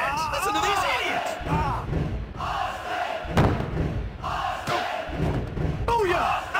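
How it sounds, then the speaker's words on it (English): A roaring arena crowd cheering in the WWF Attitude wrestling game on Sega Dreamcast, loud and continuous, under a commentator's voice with thuds and slams from the ring. "This crowd is going bananas."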